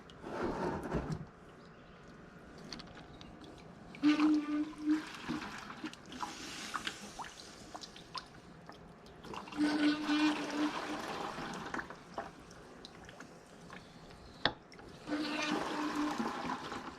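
Water leaking from a handheld pump hose and splashing into a bucket, heard as bursts of running and trickling water with clunks and handling noise between them.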